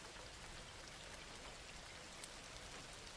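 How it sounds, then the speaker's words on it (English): Steady, dense rain falls without pause, drops pattering constantly against window glass at close range, with no voices or other sounds breaking the even hiss. "The rain was still falling mercilessly"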